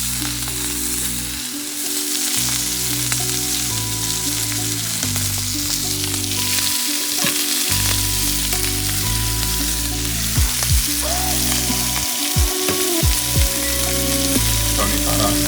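Bison sirloin steak frying in butter in a cast iron pan, a loud, dense, continuous sizzle with occasional clinks and scrapes, close up and without voices.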